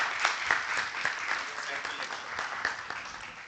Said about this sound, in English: A huge round of applause for very energetic.